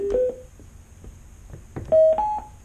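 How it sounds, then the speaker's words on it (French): Sardine underwater Bluetooth speaker, switched on, sounds a short rising series of clear electronic beeps as it pairs with a phone, two tones near the start and three louder ones near the end, with faint handling noise between. "Vous avez pu entendre que ça s'est connecté tout seul au téléphone."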